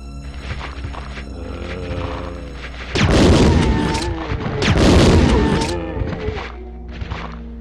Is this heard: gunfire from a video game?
yes